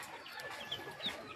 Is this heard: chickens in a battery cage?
yes